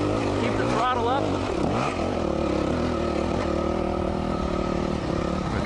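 A dirt bike revs on a hill climb, its engine note rising and wavering close by while someone talks over it.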